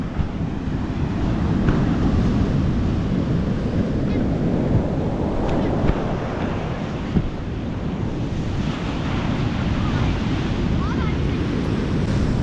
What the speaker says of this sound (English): These waves are crazy right now.